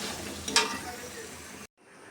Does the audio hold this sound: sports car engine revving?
no